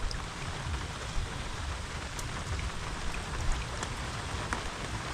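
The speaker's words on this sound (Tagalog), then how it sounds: "Sakto-sakto sa ulan. Malamig na panahon." Steady rain pattering on a surface, dense and continuous, with scattered louder drops and no voices.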